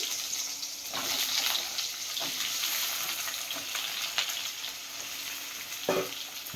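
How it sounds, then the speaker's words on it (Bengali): Ridge gourd pieces frying in mustard oil in a kadai over a high flame give a steady, close sizzle, with a few brief stirring knocks breaking through the hiss. "কড়াইতে আমি সর্ষে তেল দিয়েছি এবার ঝিঙেগুলো ছেড়ে দিচ্ছি"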